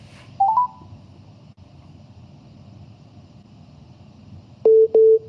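Telephone tones while placing a call: a short rising run of keypad beeps near the start, a quiet stretch of background hiss, then two loud, evenly spaced tones near the end.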